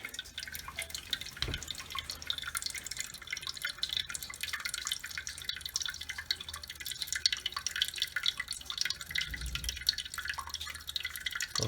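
Water drips and trickles steadily as it drains from a leaking copper pipe, a close, continuous wet patter with a couple of heavier splashes and no voices.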